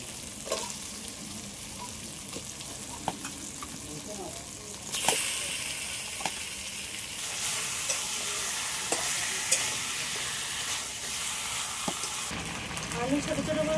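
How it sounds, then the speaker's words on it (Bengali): Chicken added to a cooked-down spice masala in a hot pan, sizzling and frying with steady stirring and occasional clinks of a spoon against the pan, loud and close, with a brief burst of hissing. "এবার চিকেনটা দিয়ে দেবো।"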